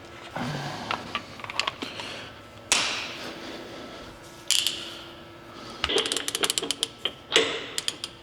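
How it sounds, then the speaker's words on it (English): A torque wrench tightens new wheel studs on an old Ford LTL9000 truck, with sharp metallic clicks and ratcheting, some quick and clustered, nearby in a workshop. "I also have no idea how calibrated or accurate this torque wrench is"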